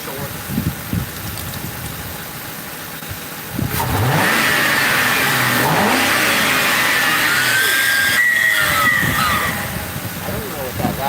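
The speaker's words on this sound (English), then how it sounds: "We're just gonna only rev it up real quick." A 2005 Ford Crown Victoria police car with a just-repaired cylinder-four ignition coil and plug revs up loudly after a few quiet seconds, holding a high, strained roar with rising whine, while people talk nearby.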